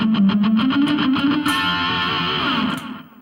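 Electric guitar with heavy distortion plays a fast repeated pentatonic note pattern in a metal style, loud and alone, with palm-muted attacks before sustained ringing notes fade out at the end.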